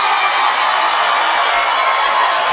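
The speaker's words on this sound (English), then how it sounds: "Listen to that crowd. They love it, dude." A large crowd cheering and roaring in a continuous, loud, dense wash of voices with no break for the whole short stretch.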